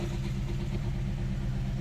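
A Dodge Charger engine idles just under 1,000 rpm at operating temperature, giving a steady, low rumbling hum up close with no other sounds.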